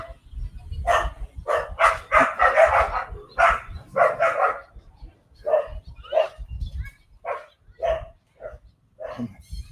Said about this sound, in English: the local soy dog is just running after it, barking at it